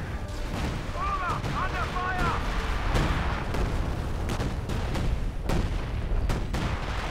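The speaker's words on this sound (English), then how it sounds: "He calls in one hell of a barrage right there." An artillery barrage in Company of Heroes 2, a dense run of booming impacts and bursts of fire that continues throughout, with a commentator talking over it.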